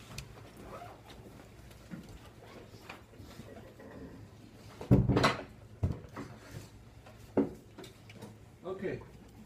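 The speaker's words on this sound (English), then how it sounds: "Let me close the door." A classroom door shuts with one sharp, solid thud partway through. Quieter knocks and shuffles from the lecture room come before and after it.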